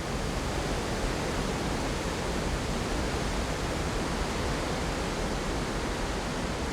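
Glacial meltwater rushing down in cascades through a volcanic Icelandic landscape, a steady, dense roar of falling water that stays constant and loud throughout with no other sounds.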